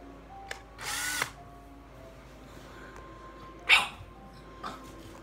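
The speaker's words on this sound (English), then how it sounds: "First time meeting the drill." A power drill whirs in a couple of short bursts, with a dog letting out a sharp bark between them in a quiet room.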